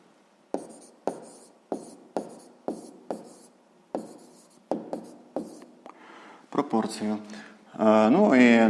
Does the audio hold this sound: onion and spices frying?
no